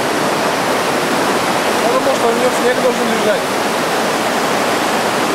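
Rushing river rapids in the Polar Urals make a loud, steady broadband roar of churning water close by, with someone speaking briefly over it.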